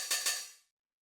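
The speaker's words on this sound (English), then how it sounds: "So we have like the open hi-hat" A single open 909 hi-hat hit, a bright metallic hiss with a quick double attack that rings and fades out in under a second.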